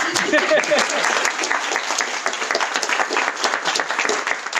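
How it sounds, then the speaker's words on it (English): Audience clapping at a World Poetry Day evening in a university library, dense, even applause that holds for several seconds, with a brief voice near the start. "We'll clap."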